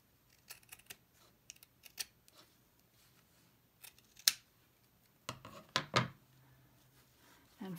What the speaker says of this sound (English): I'm going to cut this off, this thick part.